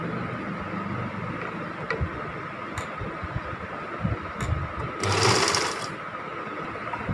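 Sewing machine stitching a straight ribbed pajama: a steady, fast mechanical whir with a brief louder burst midway, close and alone.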